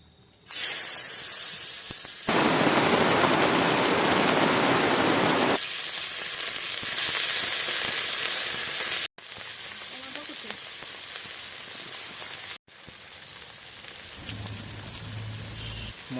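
Spices frying in hot oil for a rohu fish curry make a loud, dense sizzle that swells sharply as ingredients hit the pan, with a couple of brief breaks and softer crackling toward the end.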